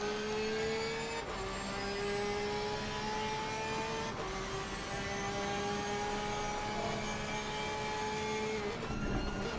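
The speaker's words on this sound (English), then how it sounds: "Beautiful sounding car, that Porsche. Probably the best in the game, in my opinion. Gorgeous sounding." A Porsche race car engine in a racing video game at Donington, a smooth, steady high-pitched engine note holding loud for about ten seconds, rising through gear changes with brief dips around four and nine seconds.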